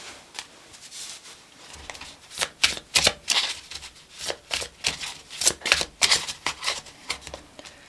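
Tarot cards are shuffled close by in quick riffling bursts, a rapid papery flutter repeating in uneven waves.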